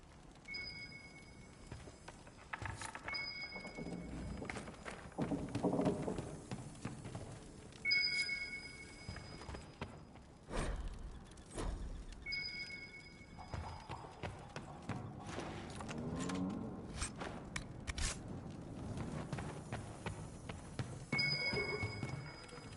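Hooves of a chestnut purebred Ferelden Forder horse in Dragon Age Inquisition clip-clop in uneven bursts, with snorting and game sound effects around them and some faint chimes, no talk.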